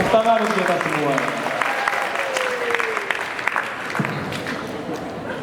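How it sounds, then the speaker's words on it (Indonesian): Audience applause at the 2025 Grand Opening Research (GORE) event at FISIP Undip, steady clapping filling the room with voices and cheering mixed in, fading toward the end. "Oke, tepuk tangan untuk kita semua"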